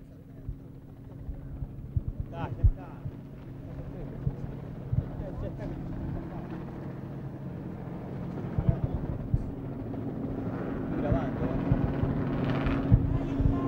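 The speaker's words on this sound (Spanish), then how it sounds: "Gran cantidad de helicópteros están sobrevolando este lugar" Many helicopters fly over a riverside rehabilitation centre in Tigre, Argentina, during Princess Diana's visit. A low rotor and engine drone rumbles steadily beneath a crowd and a commentator's voice, with some wind buffeting on the microphone.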